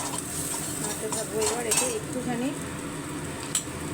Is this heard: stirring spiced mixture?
yes